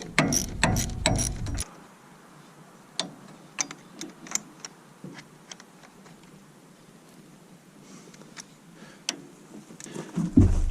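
A hand ratchet clicks through short bursts while a new bolt is tightened on a tractor, with irregular metallic ticks spaced across the clip. A louder clattering burst of tool handling comes at the start and another near the end.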